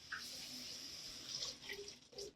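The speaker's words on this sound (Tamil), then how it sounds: "தண்ணி சேர்த்துக்கலாம்" Water splashes and gurgles steadily as it is poured into a cooking pot, close and fairly quiet.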